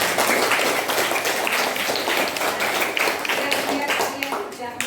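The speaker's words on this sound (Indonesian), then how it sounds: "Tepuk tangan untuk kedua teman kita." A school class claps together in a burst of uneven applause, hands striking rapidly and fairly loudly before tapering off near the end.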